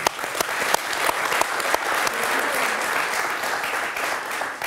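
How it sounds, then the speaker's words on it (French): A room full of people applauds, including a group of young U9 football kids, with dense steady clapping and a few sharper slaps standing out near the start. "applaudissez-vous."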